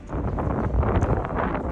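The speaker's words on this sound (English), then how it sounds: "And it's crazy windy. It's like 50-mile-an-hour winds." Strong gusting wind of around 50 mph buffets the microphone outdoors during fence work on a rural property, a loud, continuous rumbling roar with no voices.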